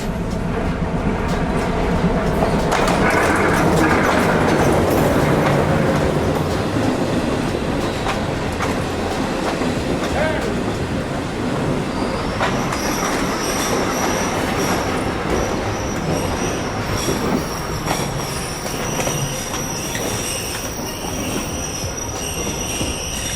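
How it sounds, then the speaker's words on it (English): A short train in Jamaica rolls in with a loud steady rumble, wheels squealing high and metallic over the last stretch as it slows, close by. "So the other train is arriving right now"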